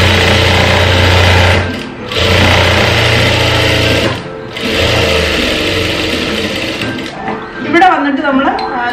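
A sewing machine stitching a kids' frock runs in long steady whirring bursts, its motor buzzing loudly with brief pauses between runs, while someone talks over it.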